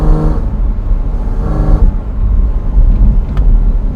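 A Porsche Cayman GT4 RS engine revs on the Furka and Grimsel alpine passes, heard from inside or close by as a loud, steady engine roar that swells and eases in two surges.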